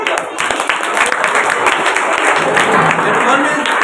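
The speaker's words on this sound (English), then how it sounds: "Okay, clapping for 8." Classroom audience at a school quiz competition applauds class 8 students, steady dense clapping filling the whole stretch at close range, no voices on top.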